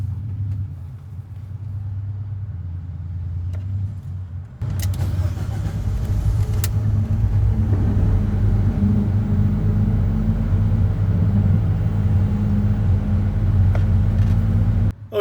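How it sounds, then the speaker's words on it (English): A car engine cranks briefly and catches on the first try, then settles into a steady, loud, close idle rumble that continues to the end, with the car parked at an arctic camper build site. "the car started on the first go"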